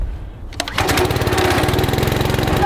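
A Honda small engine that had sat unused for months fires on a single pull-start. A quiet lead-in gives way to a sharp catch, then a loud, steady, rapid mower-like chug close by.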